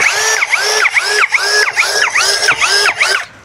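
A cordless 16V orange Kepu drill with an 8 Ah battery running near 3000 RPM, its motor whining in a pulsing pattern of about seven rising-and-falling surges, each a loud, close squeal as the bit bites in, then cutting off at the end.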